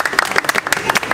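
A small group on Heybeliada claps for a girlfriend with quick, distinct, slightly uneven hand claps in close succession, with voices mixed faintly underneath.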